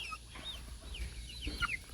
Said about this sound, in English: They're still peeping a good bit.